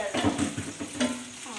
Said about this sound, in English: Now, I'll just mix this together.